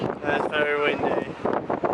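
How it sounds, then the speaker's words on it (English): Strong coastal wind in Bournemouth buffets the microphone in a steady, roaring rush, with a voice speaking partly beneath the gusts. "It's very windy."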